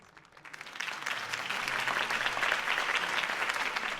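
Crowd applause after a political campaign speech swells within the first second into steady, dense clapping from a large audience, holding strong and even throughout without a voice on top.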